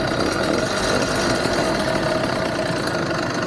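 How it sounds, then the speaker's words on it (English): Engine idling strongly on a small engine under test, a steady, dense rumble with a constant level throughout and no pauses or revving. "Got a good strong idle?"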